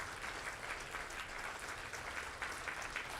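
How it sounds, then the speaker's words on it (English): Steady, sustained clapping from a large crowd at a commencement ceremony fills the whole stretch, even and unbroken, heard from a slight distance. "stand up and give them a round of applause"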